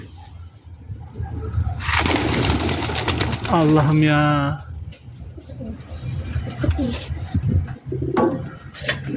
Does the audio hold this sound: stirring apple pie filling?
no